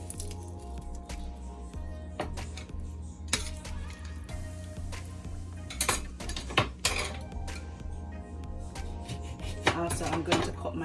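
A knife chops through a small piece of lime on a cutting board while brown stew fish is being cooked, a series of irregular close, crisp knocks and taps with occasional clinks of utensils.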